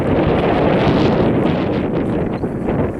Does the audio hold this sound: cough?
no